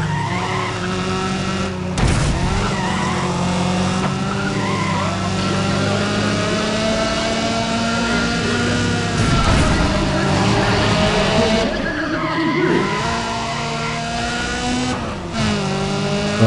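Racing car in Need for Speed: Pro Street with a steady engine drone, shifting revs and repeated tire skids across a track, while a person talks over it at times.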